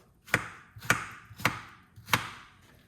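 Four crisp knife chops through cucumber strike a cutting board at a steady, unhurried pace, close up, with quiet gaps between them and no talking.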